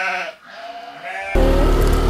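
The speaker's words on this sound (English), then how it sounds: "Oh, a goat!" A goat bleats close by, a wavering, nasal cry followed by louder bleating over sudden rustling noise.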